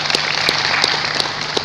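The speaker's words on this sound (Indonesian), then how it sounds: "Tepuk tangan buat beliau" Brief applause for a guest at an evening corporate event, a steady wash of many hands clapping, with a few sharper individual claps standing out.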